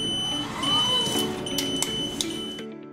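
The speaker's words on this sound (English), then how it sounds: "there is an audible safety alarm that has a constant beep as you ride the machine" A steady high electronic safety-alarm beep from a KBS Tomcat GTX floor scrubber sounds continuously over a low machine hum, with a few clicks, then cuts off near the end.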